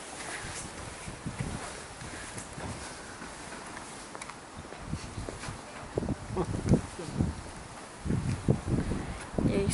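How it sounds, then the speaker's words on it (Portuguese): Steady outdoor wind buffeting the microphone, with rustling and scattered low thumps. "porque tá ventando muito"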